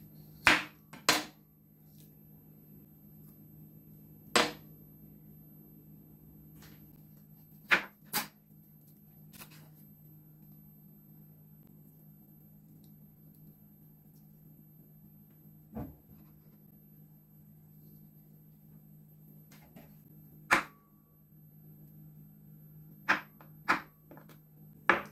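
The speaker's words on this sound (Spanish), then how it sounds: "Vamos a cortar el aguacate" A knife cutting avocado on a cutting board for a tuna salad, sparse sharp taps and knocks spaced irregularly over quiet background hum, close and crisp.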